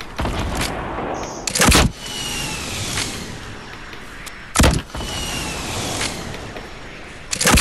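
Three loud, sharp gunshots crack in Fortnite Battle Royale at roughly even intervals of about three seconds, each a short broadband blast standing out over continuous game ambience and movement noise.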